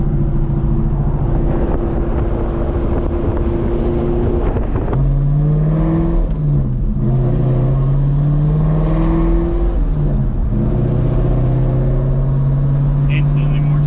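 A cam-swapped C5 Corvette V8 idles with a loud, lopey chop, its uneven rumble dipping and surging as the revs are blipped, with people talking in between.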